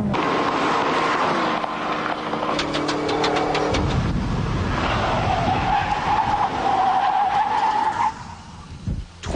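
A heavy Renntech car with massive Alcon racing brakes stops hard in a braking test, its tires squealing loudly with a rising screech against engine noise before the car settles.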